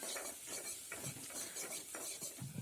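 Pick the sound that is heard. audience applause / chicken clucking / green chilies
green chilies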